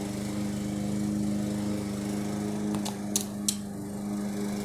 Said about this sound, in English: That's my friend mowing my lawn at the ass crack of fucking morning.